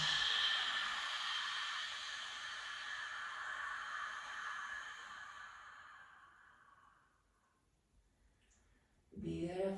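A slow, controlled exhale through the mouth during a yoga hip-opening flow, a soft breathy rush that gradually fades over several seconds before a brief louder sound at the end.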